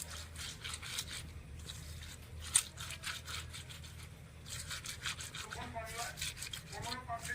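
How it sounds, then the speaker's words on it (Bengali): Small fish are rubbed together by hand to scrape off their scales, giving close, quiet, repeated scratchy rasps in an uneven rhythm, with faint knocks and light clatter in the background. "মাছগুলো আমি ঘষে নিচ্ছি"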